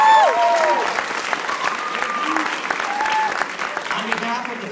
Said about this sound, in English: Give a round of applause for all the bands that came on tonight